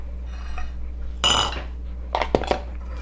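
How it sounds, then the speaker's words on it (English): Small dessert dishes clink as cheesecake is portioned into them in a home kitchen, one brighter clatter followed by a few quick, lighter clinks over a low steady hum. "I have these little dishes here, and I'm going to put it in them because it looks real pretty"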